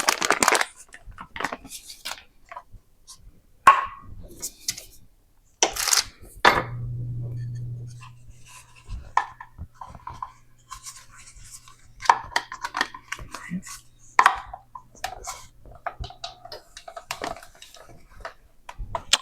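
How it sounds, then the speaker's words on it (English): Cold butter being grated on a metal grater for a cheese dough, heard as scattered scraping and rasping strokes with clicks and knocks, plus a steady low hum through the middle. "now I'm going to grate my butter because it's going to really mix very well with the cheese"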